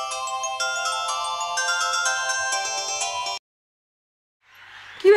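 A mobile phone ringtone plays a loud, steady electronic melody for about three seconds and then stops abruptly, followed by a short silence.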